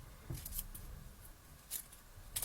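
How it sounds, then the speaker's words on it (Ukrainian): Small scissors snip excess tips off a foamiran flower branch, a few quiet crisp clicks spread out with a double snip near the end, close and alone. "Ось тут я обрізаю зайве кінчики."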